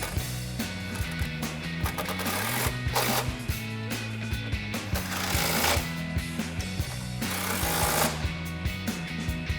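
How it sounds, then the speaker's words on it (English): An impact wrench with a 15mm socket hammers nuts tight on a 2015-2025 Mustang strut in rapid rattling bursts, several loud runs with short pauses between them, close and dominant. "Grab our impact and 15mm socket and tighten those down."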